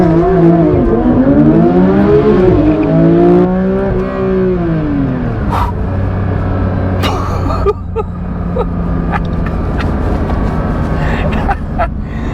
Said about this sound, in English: this wouldn't be a Porsche GT3 video without a bit of launch action